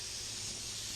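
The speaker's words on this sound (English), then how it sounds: "So I'm spraying with an iwata" An Iwata WS400 spray gun lays down tinted candy red clear coat on a Mustang, giving a steady, close, unbroken hiss of atomized paint that holds level throughout.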